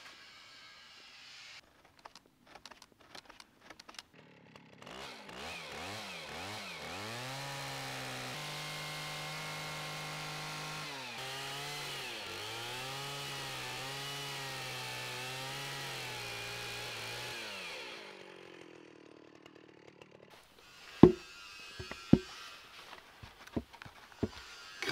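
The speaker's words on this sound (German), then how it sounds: "sodass wir dann quasi wieder wie bei diesem Brett das Ganze absägen können" Chainsaw cutting through a log while building a long bushcraft bench from tree trunks, with the engine revving up, then a long, loud, steady cutting drone. It cuts off, followed by a few sharp knocks and clunks.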